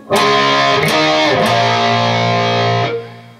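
A short distorted electric guitar riff: a few quick picked chords that ring out loudly, then stop abruptly.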